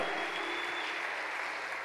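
A church congregation claps together during a worship service, a steady, moderately faint patter of many hands continuing evenly with no voices.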